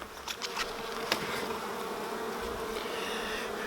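A dense, steady buzz of many honey bees on hive frames fills the whole stretch, close up and continuous.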